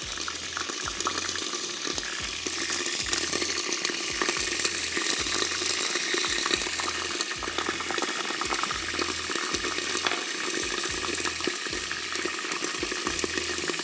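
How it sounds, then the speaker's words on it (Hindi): Yogurt and milk pour into a pot in a home kitchen, giving a steady, continuous liquid wash that runs throughout, close and moderately loud, with no talking. "अब हम इसमें दही डालेंगे और हम इसमें डालेंगे दूध।"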